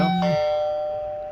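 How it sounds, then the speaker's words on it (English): Doorbell chime played through the small speaker of an iPhone 3GS, one two-tone ding-dong whose second note rings out and fades slowly, heard alone at close range. "So let me click doorbell."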